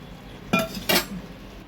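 Two sharp metallic clinks of a pot and cutlery ring out about a third of a second apart while fish head curry cooked with fish oil is being served, close and clear against a quiet kitchen.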